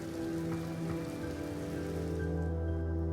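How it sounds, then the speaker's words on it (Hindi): Rain falls in Manali as a faint, steady, continuous patter with a low background hum, no voices. "अगली सुबह फिर बारिश हो रही थी"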